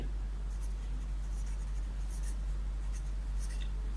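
Faint, scratchy strokes of writing on a board during a physics lesson. Short bursts of marking repeat irregularly over a constant low electrical hum, and no one speaks.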